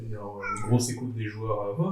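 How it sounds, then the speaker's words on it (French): A cat meows under a man's ongoing French conversation; the short, high meow rises briefly over the near, steady voice. "c'est le chat"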